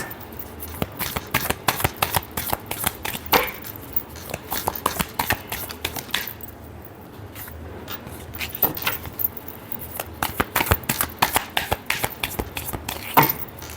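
Tarot cards shuffled by hand in repeated quick riffling bursts, crisp papery slaps and flutters close up with brief pauses between runs, and no talking over them.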